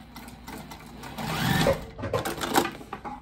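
A sewing machine runs briefly while stitching a seam, a close mechanical whir swelling and fading over a few seconds, with faint handling noise.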